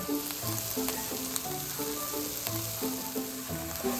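Onions with dried thyme sauté over moderate heat in a pan, giving a constant close sizzle. Faint background music runs underneath, with no talking.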